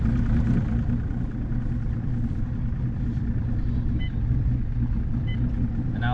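A fishing boat's engine idles steadily on the water, a continuous low rumbling drone that stays loud and close, with faint electronic beeps near the end.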